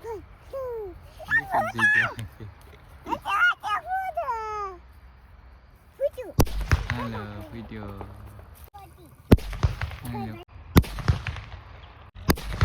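Children chatter and babble in a village, then sharp Diwali firecracker bangs burst out one after another, loud and close, with crackling in between.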